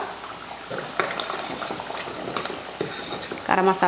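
Mutton kuzhambu seasoned with garam masala simmers in a pot, a soft bubbling bed broken by a few sharp clinks, with a voice briefly heard near the end.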